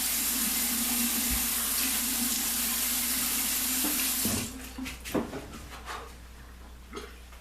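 A water tap runs steadily into a sink while alum is rinsed off after a wet shave, a loud continuous rush that cuts off partway through, followed by scattered drips, splashes and wiping sounds.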